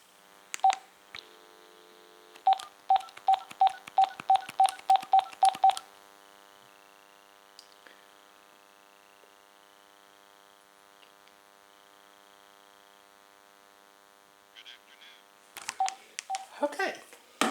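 AT&T CL82301 cordless phone handsets beep through a quick run of keypad dialing tones, a short low tone, then quiet line hum and later another burst of beeps and clicks, with faint talk in the background.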